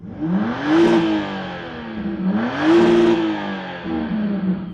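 A 2025 BMW X3 M50 SUV engine revs up twice from outside, each rise swelling to a loud roar and then easing back toward idle.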